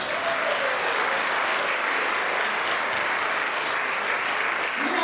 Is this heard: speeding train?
no